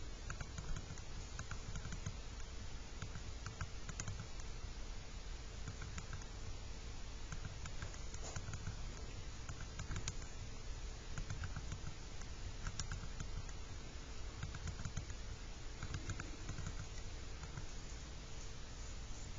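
A graphing calculator's keys are pressed in a steady patter while numbers are entered for a 3 by 4 matrix, faint soft taps running throughout over a constant background hiss.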